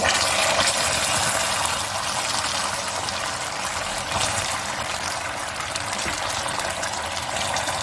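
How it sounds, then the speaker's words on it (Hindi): A cup of water poured into a dark pan of caramelized sugar while making halva, giving a steady, loud hiss and rush of liquid that runs on without a break. "अब मैं इसमें डालती हूँ 1 कप पानी"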